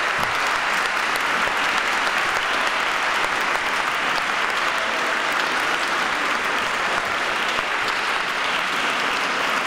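An audience in a hall breaks into sustained, even applause to thank a speaker after a long interview, a dense wash of clapping that holds steady throughout with no voices over it.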